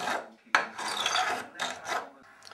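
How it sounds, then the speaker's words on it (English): A gentle file rasps along a wooden edge in several separate scraping strokes, close and fairly quiet, with nothing else heard. "Run a file down the edge. Use a gentle file if you can."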